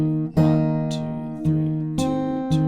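Fingerstyle acoustic guitar picks through the last two bars of a pre-chorus, with five distinct plucked attacks in a steady rhythm that ring on, close and unaccompanied.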